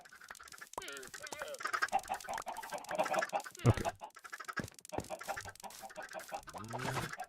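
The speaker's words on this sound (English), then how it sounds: "let's steal the chicken's eggs and pelt them with their own eggs again." Video game chickens cluck and squawk in short, busy bursts, fairly faint and mixed with game sounds, while a voice speaks briefly.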